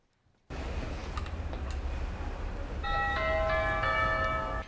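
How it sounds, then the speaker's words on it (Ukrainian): A bright electronic doorbell chime in a maternity ward rings out a few tones over a steady low rumble of room noise, fairly close and clear. "Цей дзвоник тут сповіщає про особливих гостей."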